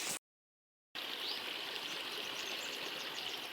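A river swollen after heavy rain in Narok, Kenya, rushes steadily as a broad, even hiss of flowing water, briefly cut out near the start and then continuous and alone.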